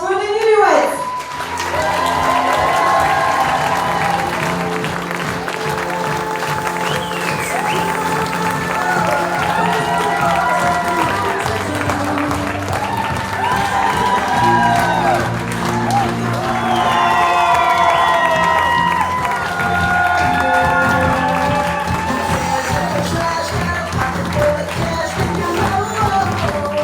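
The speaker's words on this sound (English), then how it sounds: "Everyone, please give your greatest applause for the newlyweds!" Wedding guests cheer and clap for the newlyweds amid a lively crowd, with whoops and shouts over music that carries through the whole stretch.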